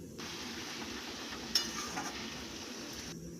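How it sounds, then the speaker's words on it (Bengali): Vegetables frying in a pan with salt being stirred in, a steady soft sizzle with faint scraping and one small clink midway, close and alone with no talk. "এই নুনটাকেও ভালো করে সবজির মধ্যে ভালো করে নেড়ে ছেড়ে নিলাম"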